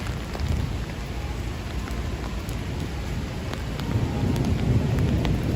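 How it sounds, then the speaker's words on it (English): Thunder rumbles low and rolling beneath a loud, steady roar of heavy rain during a night storm in Bryant Park, New York City, with the rumble swelling toward the end. "And I hear the thunder."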